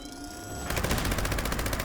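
A Gauss minigun in Fallout 76 spins up with a rising whine, then unleashes a rapid, even stream of loud shots that carries on without a break to the end.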